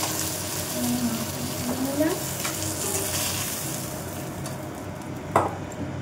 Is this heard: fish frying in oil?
yes